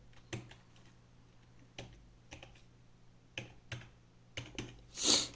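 Computer keyboard keys typed in short scattered bursts of clicks while playing Minecraft, close and fairly quiet, with no talking.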